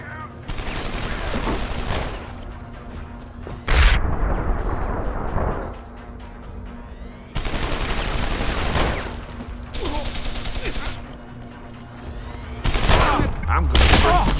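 Loud explosions burst repeatedly in the video game Deus Ex: Human Revolution, with several heavy booming blasts and rumbling debris spread across the scene, some with sharp crackling tails, mixed with game noise and a voice talking.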